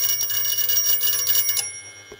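Small bell on a Meccano model, struck repeatedly by a magnet-driven clapper, rings in a rapid, steady metallic trill, close and loud, then tails off.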